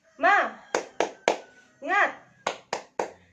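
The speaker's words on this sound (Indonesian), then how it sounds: "Mari kita tepuk semangat bersama." Children do the 'tepuk semangat' clapping chant in a primary school lesson, two rounds of a sung chanted word each followed by three sharp, evenly spaced claps, loud and close.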